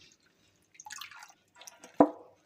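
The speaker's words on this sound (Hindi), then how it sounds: "अब मैं पालक को इस तरह से ठंडे पानी में डालने के बाद मैं इसमें से" Water drips and trickles softly from spinach leaves as they are lifted out of a bowl of cold water in a kitchen. A few faint splashes end in one sharper drop, all quiet and close.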